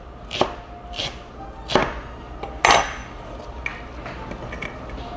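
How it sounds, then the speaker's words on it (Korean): Knife chopping vegetables such as cabbage, onion and green onion on a cutting board in a cooking class making buldak tteokbokki, with several sharp, spaced chops close by and no talk. "양파, 대파, 채소 먼저 지금 다 썰고 있어요"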